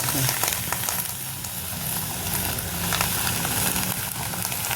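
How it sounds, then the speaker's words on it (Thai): Fish wrapped in banana leaf grills in a pan over a low flame in the northern Thai style, giving a steady close sizzle and crackle that runs throughout without pause. "ย่างบนกระทะ"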